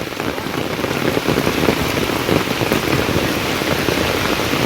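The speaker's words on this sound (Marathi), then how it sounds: "मला जोरात पाऊस आला" Heavy rain pours steadily on a village road in Sangameshwar, Konkan, a loud, dense and unbroken patter close by with no speech.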